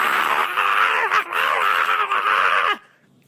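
A voice imitates the scream of someone being electrocuted: a sustained, strained wail about three seconds long that wavers and briefly breaks, then cuts off sharply.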